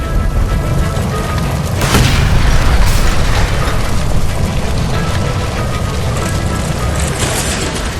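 A gas line explodes in L.A. Noire, a loud sustained roaring blast with sharp bursts of debris layered over continuous rumbling.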